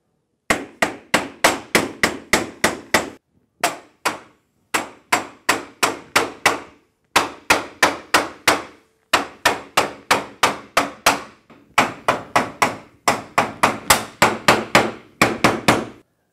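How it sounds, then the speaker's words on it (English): A hammer taps a sliding glass door track cover onto its track through a wood block, in quick, sharp bursts of strikes separated by short pauses, close and clear with no talking. "use your wood block and hammer to gently tap it onto the track"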